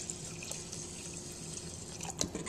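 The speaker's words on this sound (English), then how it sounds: "I should put water up to this marker right here." Water pours steadily into a rice cooker pot holding four cups of rice for sushi, a continuous close splashing hiss with a few brief drips near the end.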